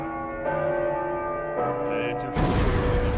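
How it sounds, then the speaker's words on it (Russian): Church bells ring in a Madagascar puzzle scene of the video game Uncharted 4, sounding as a few resonant, sustained tolls that follow one another and layer together, ending in a louder, brighter clang. "Давай звонить в колокола."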